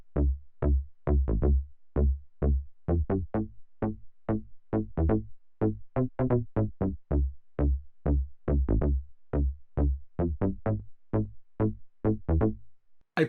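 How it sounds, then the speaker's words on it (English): Yamaha Reface CS bass patch built on the FM oscillator, a steady run of short, punchy low notes in a driving rhythm, loud and alone, with a brief higher blip at the very end. "The second bass sound is also based on the FM oscillator."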